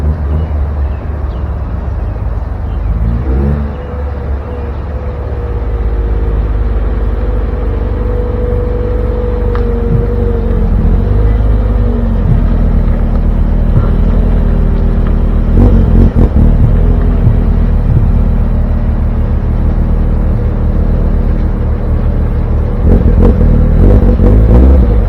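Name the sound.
Mazda Miata car being driven to a parking spot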